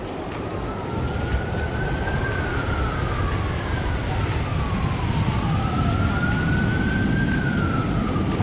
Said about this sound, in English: they got the ambulance coming now